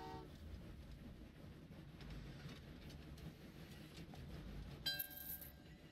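Rail cars in the Train Valley 2 video game rumble along quietly and steadily, and a short high horn toot sounds near the end.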